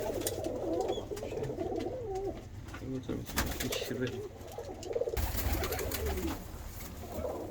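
Norwegian pigeons cooing in a loft, soft repeated throaty coos, some feeding squabs, heard close under people talking and a low background rumble.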